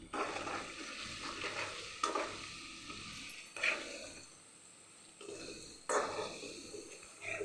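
Dried red chillies fry in hot oil in a pan, a soft, steady sizzle broken by several louder scraping bursts as they are stirred, fairly quiet and close with no talking.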